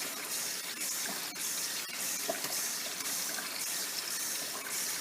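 Cold water runs steadily into a container over oxtails being soaked in salted water, a continuous gushing pour with no talking.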